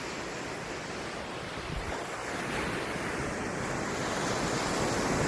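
Continuous roar of Arabian Sea waves washing ashore at Varkala beach, India, on a hot day, mixed with wind buffeting the microphone, steady and slowly swelling.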